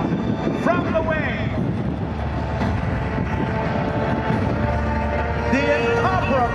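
Continuous engine drone and wind rush from a biplane flying low during a wing walking act at an air show, steady and loud throughout, with a voice commentating over it and faint crowd sounds.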